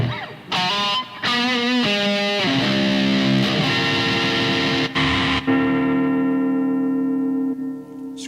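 An electric guitar played through a reverb effect rings out in a few sustained, harmonically rich chords and notes, each tail washing and decaying slowly into a long, fading echo.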